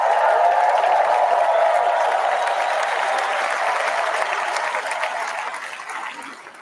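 Convention crowd at the Republican National Convention applauding, a dense continuous roar of clapping that holds steady and tapers slightly toward the end.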